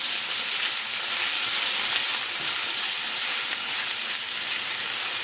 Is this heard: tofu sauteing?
yes